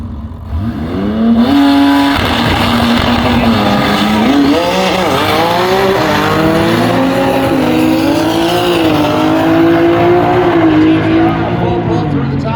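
A drag racing car makes a full pass down the strip at the TX2K26 event, its loud engine note climbing through gears with repeated rising whines, close and sustained, with an announcer talking over it.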